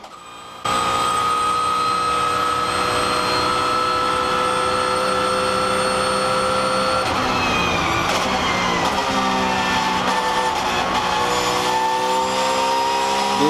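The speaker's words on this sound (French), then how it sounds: "Après le virage d'Arnage, c'est gaz à fond jusqu'en 6 pour arriver sur les S-Porsche." A Le Mans race car engine pulls at full throttle after the Arnage corner up through the gears to sixth, its loud, near whine climbing in pitch, dropping at each shift and climbing again.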